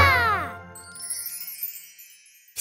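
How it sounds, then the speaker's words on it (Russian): A small bell tinkles lightly in a children's song-and-game show, with a faint high ringing that follows a brief sliding tone and fades before a sudden louder sound at the end. "Колокольчик? Да."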